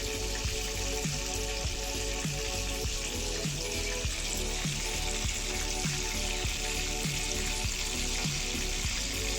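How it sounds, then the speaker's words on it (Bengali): Coated rupchanda (pomfret) fish shallow-frying in a pan over medium heat, giving a steady, dense sizzling hiss with faint, regularly spaced pops and ticks throughout, close by and with no voices. "মাঝারি আঁচে মাছগুলো ভেজে নেবেন"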